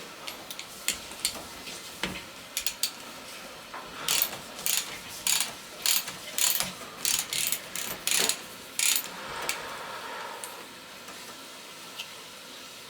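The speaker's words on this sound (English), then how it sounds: "using a 22mm socket, I'm going to go ahead and pull these little caps off the" Ratchet wrench with a 22mm socket working the top caps off a Rock Shox Jett C suspension fork: bursts of close, crisp clicking spread across the clip, some louder than others, with no talking.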